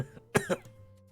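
A man coughing up blood as a story sound effect, a quick wet double cough up close, followed by a faint trailing breath.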